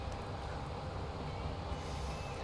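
A train passing in the Transport Fever 2 video game, a steady rumbling roll of wheels and carriages at constant moderate volume with no breaks.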